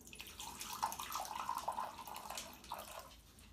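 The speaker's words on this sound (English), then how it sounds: "Pouring the water in." Spring water poured into a container at home gives a continuous splashing, bubbling trickle that rises and falls for a few seconds, close and faint, with no voices.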